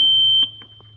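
An Arduino-based automatic pill dispenser's alarm sounds a steady, loud high-pitched electronic tone that holds without a break, with a few soft clicks or thumps under it partway through.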